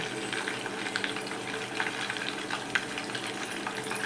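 Fresh milk cream simmering in an iron pan as it is rendered down into ghee, giving a steady, even bubbling fry with small crackling pops throughout, close and moderately loud, with no voices.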